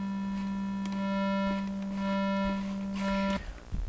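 A sustained synth tone in Phase Plant run through heavy crushed distortion, buzzing with dense harmonics and slowly wavering, then cutting off abruptly near the end.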